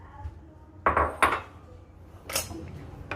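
Raw oats, nuts and seeds are stirred in a bowl with a utensil, giving a few sharp clinks and clatters close by, then a softer scrape against the quiet.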